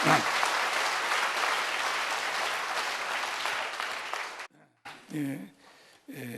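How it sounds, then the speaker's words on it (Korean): A church congregation at a Sunday worship service breaks into dense, sustained applause that fills the room for several seconds, then cuts off as a single voice begins speaking. "자, 박수로 주님께 영광 돌립니다"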